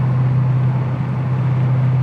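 The engine of a Datsun 240Z restomod drones at about 2,000 rpm while cruising on the interstate at 70, a steady, low, even hum with road noise and no speech.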